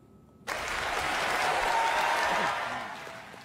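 Loud applause erupts abruptly in the House of Representatives after the same-sex marriage vote result is read out, a dense wash of clapping that swells, holds, then begins to ease.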